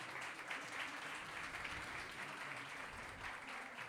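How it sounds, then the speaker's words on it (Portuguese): Sustained applause from an event audience in Ibaiti, a dense steady wash of many hands clapping throughout, moderately distant, with no speech over it. "a gente dá uma salva de palmas para eles"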